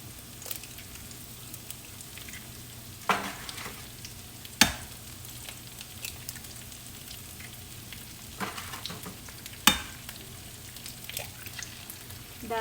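Fried rice with egg sizzles steadily in a pan as it is stirred, with a few sharp scrapes and knocks of the utensil against the pan standing out over the continuous frying hiss.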